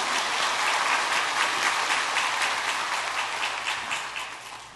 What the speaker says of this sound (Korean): 고맙다는 박수 한번 더 드리도록 하겠습니다